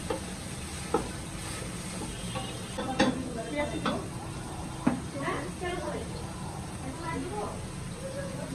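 Chopped carrots and other vegetables stir-fried for vegetable fried rice, with a steady sizzle and scraping stirs in a home kitchen while someone talks over the cooking.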